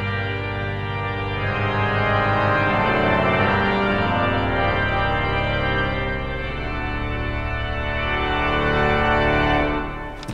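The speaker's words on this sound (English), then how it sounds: "meaning that the full swell sounds like this." Full swell of a William Hill pipe organ in All Saints, Cheltenham, with chorus reeds including a trumpet and its 16-foot and 4-foot partners, sounds as a loud, dense sustained chord that holds steady for about ten seconds before releasing.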